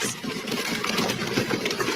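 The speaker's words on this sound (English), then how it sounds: "He's got a little tractor." A small tractor's engine runs steadily and close by, giving a continuous mid-pitched rumble with a busy, rattling texture throughout and no speech over it.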